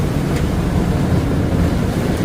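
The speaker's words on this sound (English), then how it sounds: "These water buses are fantastic, really." Water bus cruising past a refinery, a loud, continuous roar of engine, rushing water and wind buffeting the microphone, with no break throughout.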